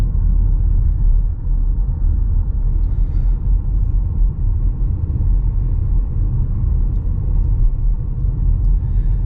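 A car rolling through a small village with wooden houses, heard as a steady, low, rumbling road and engine drone that stays even and fairly loud throughout, with no talking.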